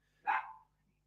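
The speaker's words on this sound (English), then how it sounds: "The dogs are going off." A dog gives one sharp, fairly close bark, lasting about half a second, against a quiet background near a henhouse.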